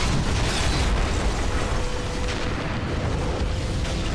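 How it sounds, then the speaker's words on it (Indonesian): Tripwire-triggered landmine blast from a war film scene, a dense, loud roar of broadband noise that fills the whole clip with no clear onset or decay, steady and continuous rather than a single sharp boom. "Dan ranjau pun meledak."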